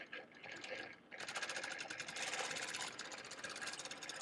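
Domestic sewing machine stitching a guitar-themed quilt, a fast, steady mechanical whirr of needle strokes heard up close, briefly slowing before running on continuously.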